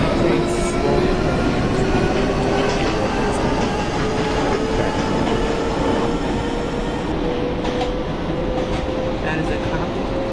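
Simulated Queens-bound F subway train in the openBVE game, a continuous loud rumble of the running train with a slowly rising motor whine throughout, no speech over it.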